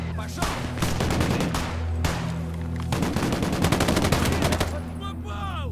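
Gunfire in the Gates of Hell: Ostfront war game, long rapid bursts of automatic fire with brief gaps, loud and close, then falling quieter near the end.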